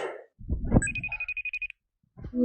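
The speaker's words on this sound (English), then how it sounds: "The phone is ringing and she's doing something." A phone rings with a rapid electronic trill of repeated bursts, fairly close, after a short clatter of handling noise and before a brief sound at the end.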